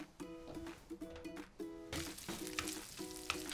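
Bacon hits a hot pan partway through and a crackling sizzle swells up, quiet at first and then steady, after low conversation between two people cooking.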